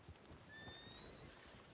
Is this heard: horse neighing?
yes